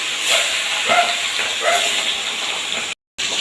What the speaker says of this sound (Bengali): তেলের ওপর একে একে মাছগুলো আমি সব দিয়ে দেবো